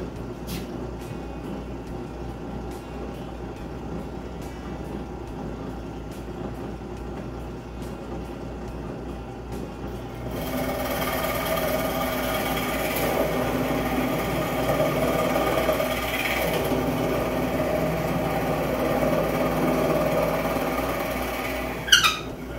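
A wood lathe turns a cup blank with a steady motor hum that swells louder about halfway through as the cut deepens, running on evenly before a sharp knock near the end; nobody speaks.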